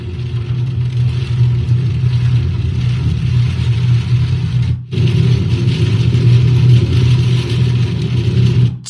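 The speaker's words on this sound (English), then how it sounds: "it sounds like the muffler's dragging" Car driving with its muffler dragging, a loud, steady low rumble and engine drone close by, with a brief dip midway before the rumble resumes.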